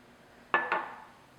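A spoon or whisk stirring buttermilk and regular 2% milk together in a mixing bowl for bran muffins gives two quick, close clinks against the bowl, each fading briefly, in an otherwise quiet kitchen.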